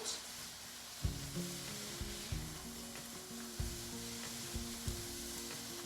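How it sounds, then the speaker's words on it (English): Onions fry in oil on a stovetop, giving a steady close sizzle with occasional sharp clinks and taps as the pieces are moved around the pan. No one speaks. "Just get the oil on all of them. And we're going to let those fry up."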